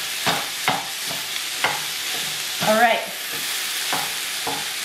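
Ground beef chopped and stirred in a pan over medium-high heat for sloppy joes, with repeated scraping strokes of a utensil over a steady sizzle of frying meat and a brief spoken remark.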